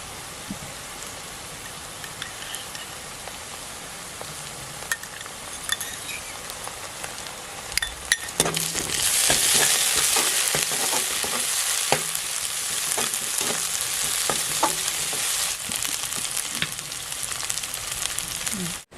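Onion, ginger garlic paste and green chillies sizzle and fry in a pan while being stirred, a steady crackling hiss broken by scrapes and clinks of the spoon that grows louder midway as the mix is tossed together.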